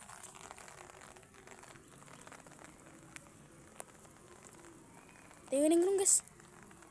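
Rain falling in a horror video game, a steady soft hiss of drops running throughout at low level, with a voice speaking briefly over it near the end.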